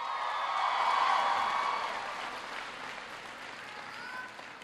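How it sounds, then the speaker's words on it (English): A large audience at an Amazon facility bursts into steady applause for Lydia after her introduction at a presidential jobs event. The applause swells early, then gradually thins and fades. "Give Lydia a big round of applause."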